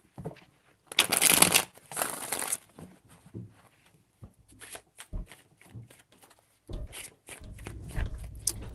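Tarot cards shuffled by hand, a close rapid riffling burst followed by softer scattered shuffles, taps and card slaps, fairly quiet and alone.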